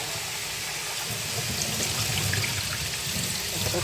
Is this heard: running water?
yes